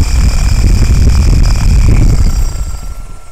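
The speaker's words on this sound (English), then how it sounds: "This is the 36 inch commercial prop." A 36 inch commercial drone propeller spins on a test stand with a loud, close, pulsing low whoosh and a thin high motor whine, running steadily and then slowing down near the end, with no speech.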